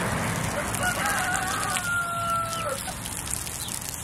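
Thin, high chirps come from young chicks over a constant outdoor hum, a few drawn-out peeps standing out near the middle.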